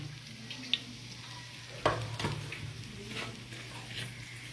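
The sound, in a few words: mustard seeds spluttering in hot oil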